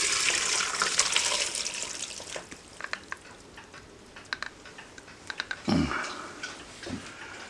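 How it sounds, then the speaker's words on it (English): Shrimp and mussel stock pours into a kitchen strainer, a steady close liquid splash and trickle with scattered clinks and taps of shells and utensil, ending in a couple of louder sloshes. "what we're going to do is we're going to pour it into a strainer"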